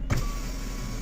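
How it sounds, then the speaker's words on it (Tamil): The power window motor of a Maruti Alto K10 hums steadily and close by for about a second, starting with a short click. "நமக்கு பவர் விண்டோக்கான சுவிட்ச் வந்து இங்கே கொடுத்துருக்காங்க."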